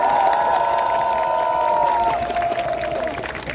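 Crowd at an outdoor campaign rally in Gwangju, loud clapping and cheering with shouts and a long whistle-like tone, sustained and dense throughout.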